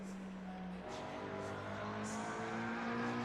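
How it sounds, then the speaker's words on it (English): A McLaren GT race car in Assetto Corsa Competizione, heard as a continuous engine howl whose pitch climbs through gear changes, moderately loud and alone. "there's that McLaren going"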